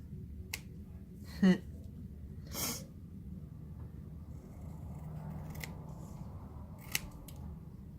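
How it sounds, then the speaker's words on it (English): A few sharp snips of scissors cutting paper, sparse and close, with quiet breathing and faint rustling in between. "these scissors won't let me cut a straight line"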